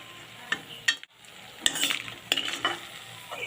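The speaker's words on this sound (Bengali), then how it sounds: "আমি সবারই প্রথমে বড়িটাকে ভেজে নেব।" Homemade black gram lentil dumplings (bori) frying in white oil, a low steady sizzle broken by several sharp bursts and scraping stirs of a spatula against the pan.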